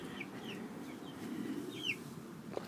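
Young chicks outdoors in the evening sun give a few faint, high, sweeping cheeps scattered over a low background hum, with no talking.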